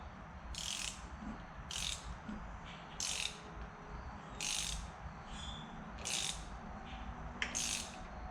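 Rapid ratchet clicks come in short bursts about every second and a half while a hand wrench turns over a Kawasaki KFX 450R quad engine during a rebuild, close and fairly quiet against a low background hum, with no talking.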